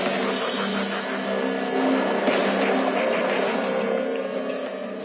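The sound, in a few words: car being driven inside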